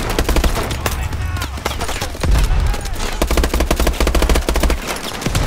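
Dense, rapid automatic gunfire in the futuristic shooter Call of Duty: Advanced Warfare, bursts crackling almost continuously over a heavy low rumble of in-game combat, loud and close throughout.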